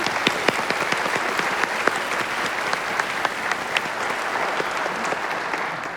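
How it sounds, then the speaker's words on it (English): Audience applause at a university president's fall state-of-the-institute address fills the room with steady, dense clapping that holds an even level for the full six seconds, with no voices over it. "Let's give him a quick round of applause."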